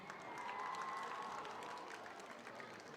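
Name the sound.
sisters in the audience clapping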